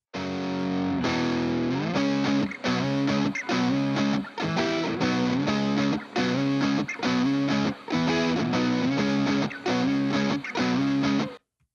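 A heavily distorted electric guitar panned to the left plays loud, chopped chord stabs in a steady repeating rhythm, each burst cutting off into brief silence, with no voices.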